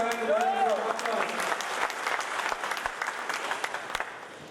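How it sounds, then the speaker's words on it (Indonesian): An audience claps for two candidate pairs at a regent election debate in South Aceh, with a moderately loud burst of applause that thins out over a few seconds while a voice speaks over it. "Sekali lagi silakan tepuk tangan kepada kedua paslon."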